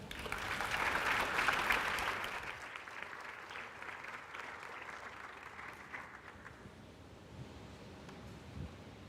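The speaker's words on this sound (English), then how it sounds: "So please give her a warm round of applause." An audience at a university welcome event claps warmly, a loud dense burst of applause that swells for a couple of seconds and then gradually thins out and fades.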